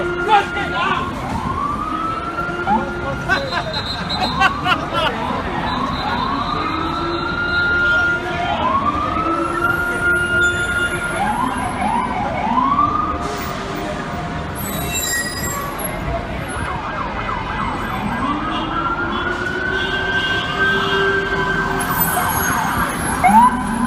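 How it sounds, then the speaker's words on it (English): NYPD police cars pushing through blocked traffic in New York City, sirens wailing in repeated rising and falling sweeps, sharp rumbler yelps and blasts cutting in, loud and close over a steady traffic din. "rumblers blaring as they pushed through traffic blocking them"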